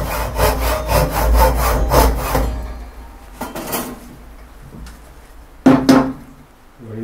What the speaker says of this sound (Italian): Vado quindi adesso a praticare un taglio a vena, lungo vena, perciò userò i denti larghi.